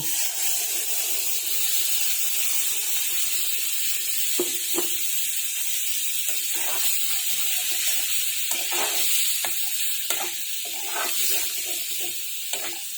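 Water from rinsing the blender hits a pan of paneer gravy, bringing a steady high hiss of sizzling steam broken by soft scraping clicks of stirring, continuous and close.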